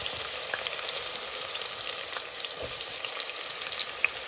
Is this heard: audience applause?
no